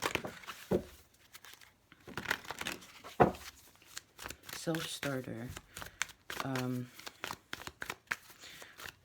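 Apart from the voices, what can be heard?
shuffling cards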